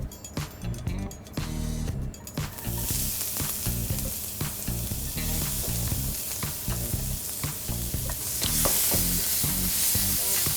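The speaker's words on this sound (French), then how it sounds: "Je vais utiliser les sucs des escalopes pour faire rissoler mes oignons." Onions browning in the pan juices left from veal escalopes, a loud, close sizzle broken by frequent stirring clicks and scrapes, the hiss swelling brighter toward the end.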